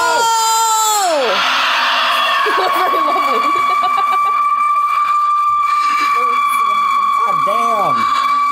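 A person screams with sliding, wavering pitch, loud and close, in bursts over a steady tonal background hum.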